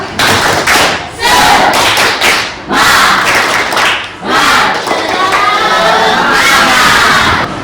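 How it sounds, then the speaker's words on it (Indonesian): A school class performs a spirited rhythmic clap chant, loud bursts of unison clapping, thumps and shouted cries in a repeating pattern, close and crowded. "Sekarang ibu mau dengar tepuk semangat"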